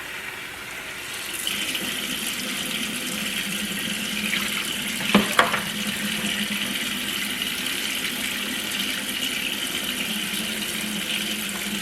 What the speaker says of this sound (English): Fill this up one last time because I think it's gonna be clear